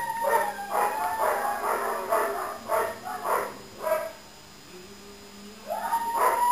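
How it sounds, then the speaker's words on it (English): A dog barks and yips in a quick series of sharp, nearby calls, then briefly falls quiet before a whining yelp at the end. "She's barking at Bandit"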